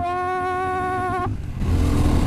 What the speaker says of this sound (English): Front comes up in first gear on the power when you give it a handful.